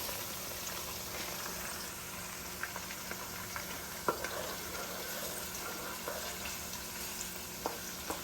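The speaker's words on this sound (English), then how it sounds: "I'm also going to add my salted fish and allow it to fry in the palm oil." Salted fish frying in palm oil for a bean stew, giving a steady close sizzle throughout with occasional soft ticks and pops from the pan.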